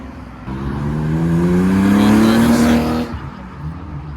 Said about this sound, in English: Oh, MX-5 leaving.